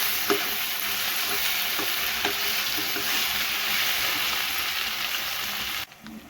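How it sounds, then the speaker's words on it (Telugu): Onions and prawns frying in a pan for a prawn and ridge gourd curry: a loud, continuous dense sizzle with faint occasional stirring taps, close up, cutting off abruptly near the end. "ఉల్లిపాయలు కూడా వేగిపోతున్నాయి, దగ్గర పడిపోతున్నాయి"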